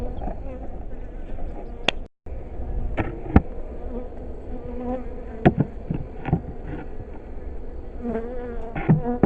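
Honey bees buzz around pond-side hives as supers are added, a close, steady drone. Occasional knocks and clicks from hive equipment come through, and a person talks quietly over it.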